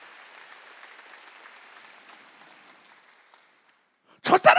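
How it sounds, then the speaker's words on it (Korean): A congregation at a Korean church's Wednesday worship service claps at moderate volume, fading away into near silence before a loud voice abruptly breaks in. "박수 좀 쳐줘요."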